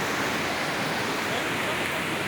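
Waterfall at the end of a descending forest trail, a steady, even rush of falling water filling the whole stretch without any break or change in level.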